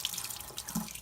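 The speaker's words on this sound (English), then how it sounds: "You just run it under warm water, and that will clear out the clogs." Warm tap water runs through the tube of a liquid glass applicator for clearing clogs, giving a soft, steady close-range trickle and splash with a brief brighter burst near the end.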